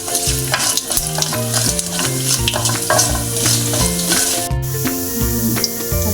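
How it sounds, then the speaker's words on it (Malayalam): Urad dal sizzles and crackles while frying in a pan with dried red chilies for cabbage thoran, as a spoon scrapes and stirs in steady repeated strokes close by, with no voices. "ഉഴുന്നിങ്ങനെ ഇളക്കി കൊടുക്കാവേ."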